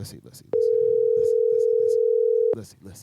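A steady electronic telephone ringing tone sounds for about two seconds on a call line during a radio interview, with people talking just before and after it.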